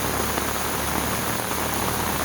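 Rain falling steadily beside a lily pond in Mymensingh, a constant close hiss with no breaks and no voices.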